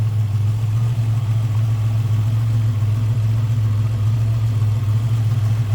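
A 1987 Buick GNX engine idles steadily and smoothly, a constant low rumble with no changes in speed, close by and fairly loud.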